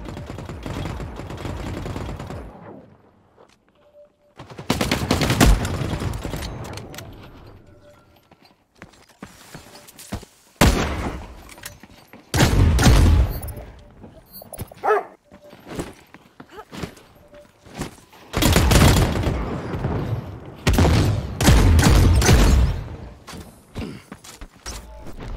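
Grenade explosions in the video game The Cycle: Frontier come as several loud, broadband bursts with a long decay each, spread irregularly through the stretch with quieter gaps between them and a few sharp cracks.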